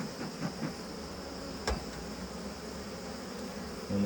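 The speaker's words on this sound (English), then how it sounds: "When they fan, they're spreading the queen's pheromone out so that the ones that are flying know that that's where their home is." Honeybees fan their wings at the hive entrance, giving a steady close buzzing hum with no talk over it.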